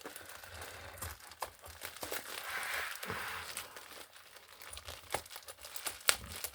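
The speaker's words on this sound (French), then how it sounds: "J'arrive déjà à ouvrir le colis." Plastic and paper packaging on a cross-stitch kit parcel is crinkled and torn open in quiet, uneven bursts, with sharp crackles and rustles close by and no talking.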